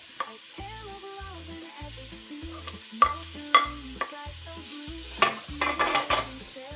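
Red onion sautéing in a pan, with a steady low sizzle and repeated stirring scrapes, then sharper clinks of a utensil against the pan toward the end; no talking.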